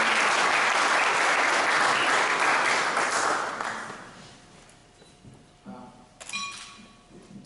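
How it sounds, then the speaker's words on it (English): A crowd at an athletics Hall of Fame induction ceremony breaks into loud, dense applause that holds for several seconds and then fades away, leaving scattered claps and light room noise. "please give a warm Averett round of applause for Bobby Shields."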